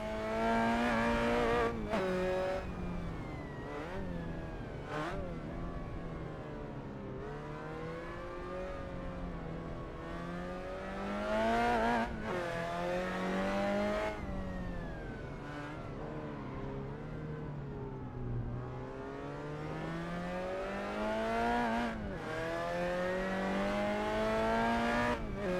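A 1966 Lotus Cortina touring car driven on the 1960s El Pinar circuit in Assetto Corsa, its engine loud and close, revving up and down through repeated gear changes and lifts off the throttle, with no talk over it.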